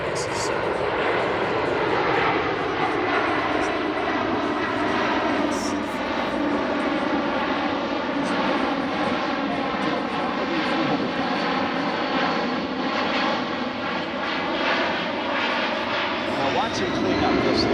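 A USAF C-17 military transport jet flying its West Coast demo at the MCAS Miramar air show gives a continuous, powerful engine roar with sweeping whining tones, while voices speak underneath.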